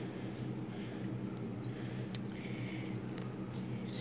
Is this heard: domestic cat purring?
yes